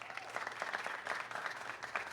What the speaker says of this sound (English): Applaud to them.